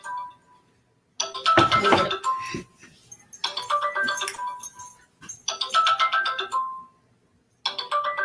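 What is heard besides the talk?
cell phone ringing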